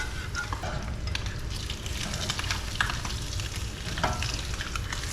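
A gravy whisk stirs gravy in a skillet during a Southern country breakfast, making constant close sizzling and bubbling with steady rhythmic scraping and swishing strokes, with no talking.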